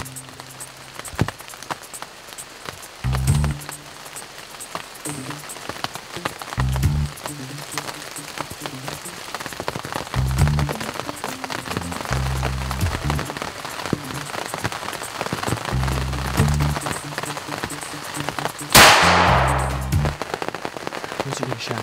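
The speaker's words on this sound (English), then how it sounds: "The rain shower turned into a downpour" Heavy rain pours down as a steady, loud drumming on surfaces around a hunting blind at a bear camp, with low murmurs beneath it and one sudden sharp burst near the end.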